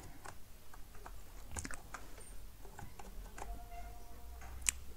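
Light, irregular clicks of a computer keyboard and mouse tap away quietly at a desk during Photoshop editing, with one sharper high click near the end.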